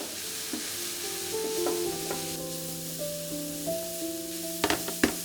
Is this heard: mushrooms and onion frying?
yes